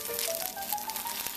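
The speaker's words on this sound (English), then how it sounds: "frying it really kind of makes it extra special" Banh to, a steamed Lunar New Year cake, fries in a pan with a steady, soft broadband sizzle that holds evenly through the moment, close by and with no talking.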